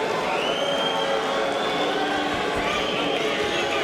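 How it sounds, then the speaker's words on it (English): A boxing arena crowd boos and whistles at a fighter, a continuous loud roar with sustained whistle tones rising above it, while a commentator talks over the noise. "as the crowd boos, I will point out that booing in many European and South American countries is whistling"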